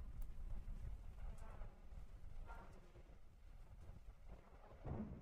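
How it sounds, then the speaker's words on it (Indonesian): Rain falls steadily with low, rolling thunder rumbling underneath, a few brief louder rumbles standing out against the constant wash of the storm. "Hujan men."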